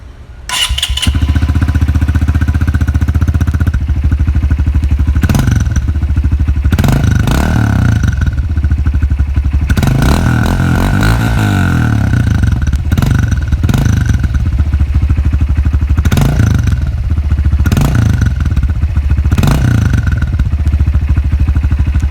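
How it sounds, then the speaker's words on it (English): A four-stroke dirt bike engine runs loudly and steadily up close, with a deep throbbing idle and several sharp throttle blips revving it higher. "this is how a 4-stroke dirt bike sounds like"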